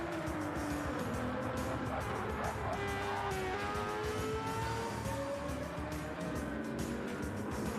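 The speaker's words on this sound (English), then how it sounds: "Absolutely love the way that monster sounds on the racetrack." A race car engine roars around the Nürburgring in Gran Turismo 7, a sustained high-revving drone with rising and falling pitch through gear changes, plus tyre squeal and other cars faintly in the mix.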